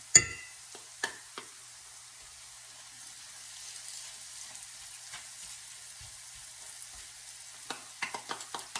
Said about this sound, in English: The tomato paste in here. And then continue to stir.